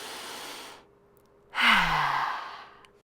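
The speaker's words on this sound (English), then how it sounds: "Let's take a deep breath." A single deep breath, drawn in audibly then released as a long, close sigh, alone in a quiet room.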